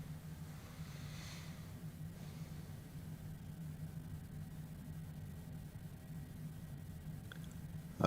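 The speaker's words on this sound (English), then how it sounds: "Okay, engines are just coming up, spooling up nicely." The jet engines of a simulated Citation Longitude spool up in Microsoft Flight Simulator, giving a steady low rumbling hum with a faint whine that holds evenly throughout, with no voices.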